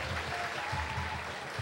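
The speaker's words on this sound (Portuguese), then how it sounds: "A torcida aqui em Varginha." A football crowd roars steadily at a stadium in Varginha on a wet match day, a continuous distant wash of cheering and applause with no single voice standing out.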